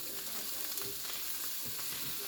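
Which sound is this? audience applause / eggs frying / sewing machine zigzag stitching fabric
eggs frying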